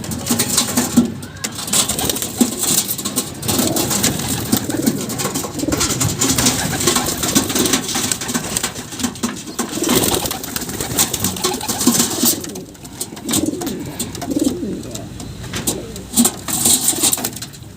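Pigeons cooing nearby, including a brown male pigeon, with soft repeated coos under steady rustling and background noise, continuing throughout.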